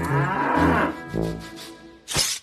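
A cow moos in a Norwegian folk tale, with a long low call followed by a shorter one and a brief final grunt, close and clear with no talk.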